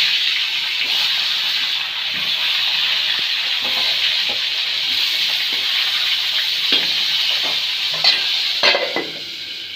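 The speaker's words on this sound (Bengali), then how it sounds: "এই পটলটাও বেশ লাল করে ভেজে নেব" Pointed gourd (potol) fries in spice paste with a steady, close sizzle and intermittent scraping stirs against the pan.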